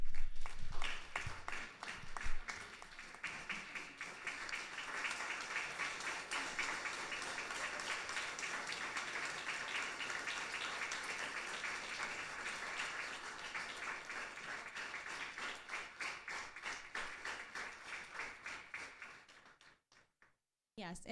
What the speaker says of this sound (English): I invite you to stand and give them a round of applause